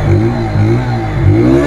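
A 2019 Kawasaki W175 motorcycle engine idles loudly nearby with a steady low thrum, rising in a few short revs and falling back, no voices.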